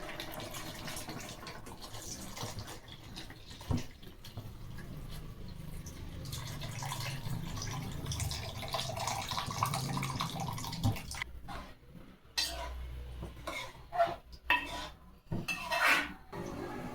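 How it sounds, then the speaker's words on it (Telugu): Fish pieces going into a tamarind fish stew pot, quiet clattering and knocking of the pot and utensils with wet splashy, watery handling sounds, growing more broken and clanky toward the end, no speech. "ఇప్పుడు మనకి చేపలు వేసుకోవాలి."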